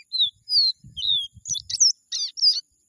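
A caboclinho seedeater sings a short run of bright, clear whistled notes and quick chirps, close and distinct against a quiet background, with soft low knocking sounds in between.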